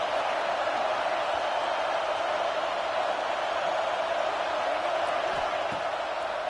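A college football stadium crowd produces a steady, dense roar, a continuous wash of distant voices with no distinct peaks.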